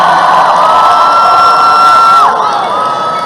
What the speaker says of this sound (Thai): ขอบพระคุณหลาย ๆเด้อ ที่พี่น้องปรบมือให้กำลังใจ